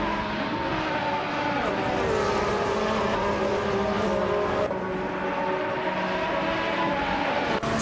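A Force India VJM10 Formula One car in a racing video game drones continuously at high volume, its engine tones shifting through gears amid a dense wash of other cars.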